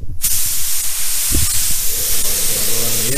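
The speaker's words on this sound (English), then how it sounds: "Spray some base on this." Base coat paint hissing steadily from a spray gun onto a car part in a paint booth during a totaled car rebuild, a loud continuous spray running through the whole stretch after a brief quiet start.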